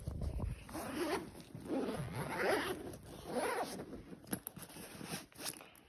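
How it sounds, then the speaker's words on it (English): Several long zipper pulls rasp in sequence, each a drawn-out scratchy zip, followed by a few quick clicks and rustles close by. "Look at the zippers in"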